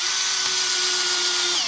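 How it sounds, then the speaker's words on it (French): Cordless drill on a low clutch setting drives a screw with a T20 bit into an aluminium window frame, giving a steady, close whine that runs continuously before cutting off, with no talking. "Donc tu vois c'est ce genre de vis qui vient de se mettre dedans, avec un embout de T20."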